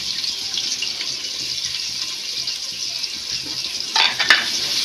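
Onions sizzle steadily in hot oil with spices for a home-style beef biryani, a continuous bright frying hiss with a brief louder burst of crackle near the end.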